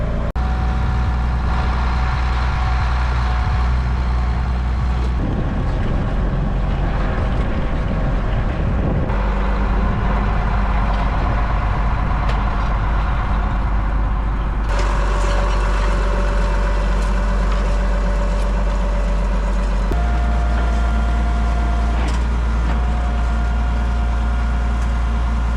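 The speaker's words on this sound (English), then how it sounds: "get the tractor on the line, get it within the mark" A tractor runs steadily in an apple-farm field while marking out planting rows, its engine droning loud and close the whole time and shifting in tone now and then.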